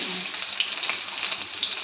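Onions frying in a little oil, sizzling loudly and steadily from close by, with faint scraping and stirring sounds running through the hiss and no talk.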